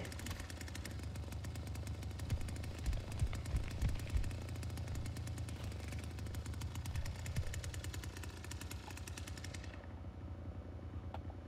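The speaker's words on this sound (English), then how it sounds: "you can't really sneak up on anyone while your chainsaw's like this" A chainsaw in the Texas Chainsaw Massacre video game rattles and revs continuously, a loud, rapid chugging buzz that carries on for several seconds and then thins out near the end, with no talking.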